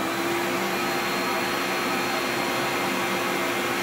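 A loud, steady motor roar with broadband whooshing air runs continuously from a dust collector on one motor at full blast nearby.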